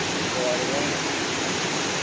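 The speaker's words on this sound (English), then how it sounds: "It's really scary that like it's rushing its banks over there and then coming back down." A river running high and rushing over its banks, heard as a loud, steady broadband roar of water with no break.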